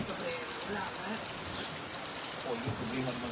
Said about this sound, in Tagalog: Ulan-ulan lang.